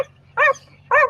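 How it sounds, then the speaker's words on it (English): Two sharp, loud barks from a nearby agitated dog, evenly spaced about half a second apart against a quiet background. "you're agitating the dog"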